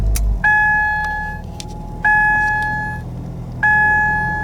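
A 2010 Ford Mondeo sits with three identical electronic dashboard chimes repeating about every one and a half seconds, each a steady two-tone beep, after a short low thump at the start; close and clear with no talking.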